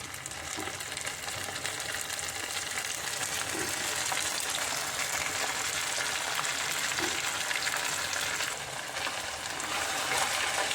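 Ground spice paste hits fried onions in hot oil, a loud continuous sizzle with bubbling and occasional stirring, steady throughout, without speech.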